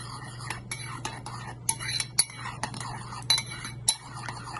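A spoon stirs crushed red chilli into sauce in a bowl, giving a run of light, rhythmic metallic clinks and scrapes at close range, with soft speech faintly underneath.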